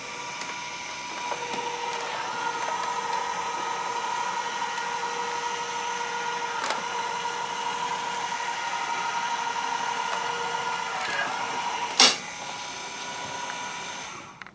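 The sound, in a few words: AccuQuilt fabric cutting machine feeding a die through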